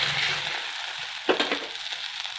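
Egg fritters sizzle and crackle in hot oil in a pan, a soft steady frying hiss with a few brief louder pops midway.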